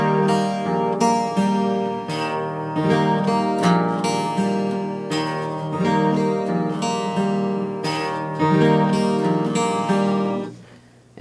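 Bagpipes playing the Vaseline Machine Gun embellishment slowly: a loud, continuous drone under a repeating run of short, crisp grace-note bursts and melody notes, steady and close, ending with the pipes cutting off.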